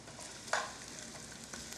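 Onions sizzling and frying in a pan, a steady close hiss with a sharper burst of crackle partway through as they are stirred, no voices.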